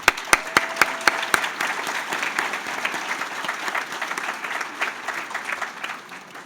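Audience applause at a college and career readiness event for adult high school and equivalency students: a few sharp, close individual claps lead into a looser, thinning round of clapping from the crowd.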